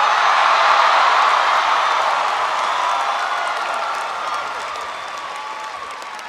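Large audience at a university commencement in a big stadium applauding and cheering, a loud dense roar of clapping that slowly fades over several seconds.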